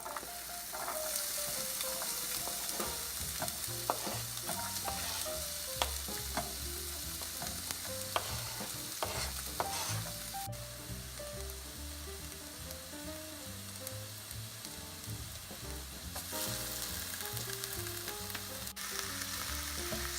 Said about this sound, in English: Now that you've chopped up your vegetables, you can put them in your pan with the sausage to cook.